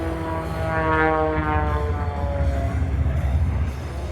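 Aerobatic propeller airplane engine roaring steadily at a live airshow, a continuous droning buzz with shifting pitch as the plane maneuvers, moderately distant and loud throughout.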